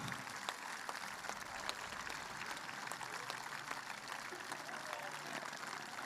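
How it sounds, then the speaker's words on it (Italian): An audience applauds at a live public event in Carbonia, Sardinia, a soft, distant patter of many hands clapping steadily throughout, with faint voices mixed in. "Voglio che questo applauso sia catturato dalle telecamere di Sardegna Live."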